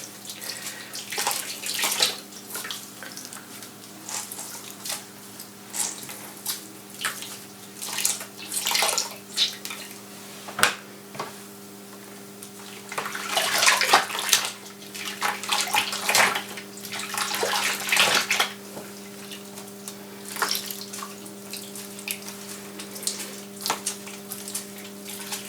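Water splashes and runs in a tub or sink as dyed yarn skeins are rinsed and squeezed out, with irregular sloshing bursts and a steady low hum underneath throughout.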